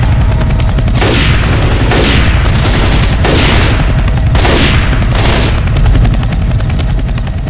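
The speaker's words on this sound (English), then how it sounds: "A chopper!" A helicopter in Left 4 Dead 2 thunders with a loud, constant rotor roar, while repeated bursts of gunfire sweep through at roughly one-second intervals.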